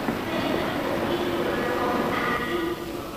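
A train at York railway station in 1953 gives a steady rumbling roll with a faint clatter of carriages, moderately near and continuous, with a voice faintly mixed in.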